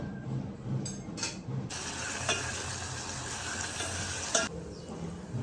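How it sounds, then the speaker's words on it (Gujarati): Oil in a pan sizzles steadily as spices are tempered for a vegetable dish without asafoetida. The crackle is loud and close, with a few scraping stirs and clicks and no talking. "હાલો હવે શાક વઘાર નાખવું"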